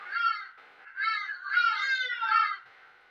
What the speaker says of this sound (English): What's wrong with these birds?